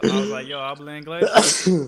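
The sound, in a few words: sneeze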